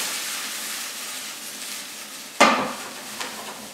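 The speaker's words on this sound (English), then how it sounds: "adding it to the saute pan" Mushrooms and onions sauté in oil in a sauté pan with a steady, close hiss of frying, broken about two-thirds through by a sudden louder burst and clatter as more goes into the pan.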